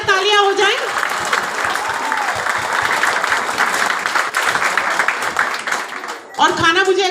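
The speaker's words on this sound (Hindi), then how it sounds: "तानमिया के लिए जोरदार तालियां हो जाएं." A crowd at a public stage program in Bahrain breaks into loud, sustained clapping for several seconds, with a voice talking just before it starts and again as it fades out.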